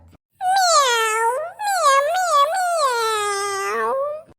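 A cartoon cat meows loudly in two long, drawn-out, wavering cries, close by with a short pause between them.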